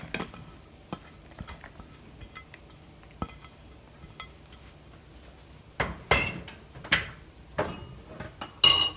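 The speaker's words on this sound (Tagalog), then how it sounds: "Ilagay na po natin sa mixing bowl at paghaluin na lang po natin" Carrots, potatoes and onions tossed together in a mixing bowl for lumpiang shanghai filling, heard as soft scraping and stirring that turns into several louder clattering knocks of utensil against bowl near the end, close and without talk.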